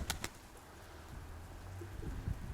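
A female homing pigeon that has not flown for a year coos faintly and low, with a few soft clicks and rustles near the start against a quiet background.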